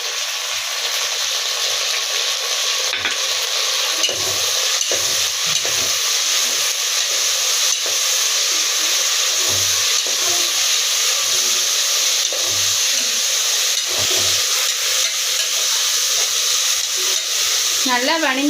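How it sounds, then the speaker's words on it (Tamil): Mint and chopped tomato sautéing in a pan for vegetable biryani, a steady loud sizzle and hiss running throughout with occasional stirring scrapes. "புதினாவுக்கு அப்புறம் தக்காளியும் போட்டு வணக்குவோம்"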